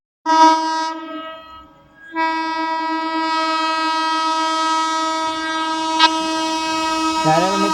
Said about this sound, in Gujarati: ત્યારે મિત્રો કોઈ ટ્રેન આવે છે પણ કાંઈ ખબર નથી કઈ ટ્રેન આવે છે.